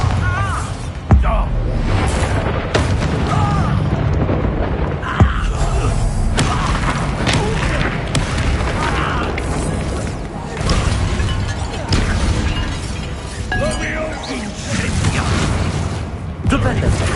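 Bombarda explosion spells going off during combat in Hogwarts Legacy on PS5, with repeated booming blasts and sharp impacts layered over a continuous roar of battle effects and music, while a player shouts spell names throughout.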